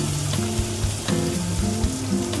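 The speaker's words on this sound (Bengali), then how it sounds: "এর সাথে চিংড়ি মাছটা ভেজে নেব" Shrimp seasoned with salt and turmeric fries in a pan with tomato and cumin, giving a loud, continuous close sizzle with a few brief stirring clacks.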